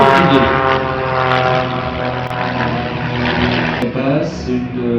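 At the 2024 Limoges Bellegarde air show, a propeller airplane with a 240-horsepower French Potez engine drones loud and close in a steady buzzing roar that shifts in pitch as it passes.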